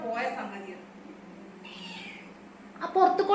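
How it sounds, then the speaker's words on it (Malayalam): A domestic cat meowing indoors, with short cries heard near the start and the end amid people talking nearby. "പോയത് നമ്മുടെ വീട്ടിലുണ്ടായ പൂച്ചയല്ലേ"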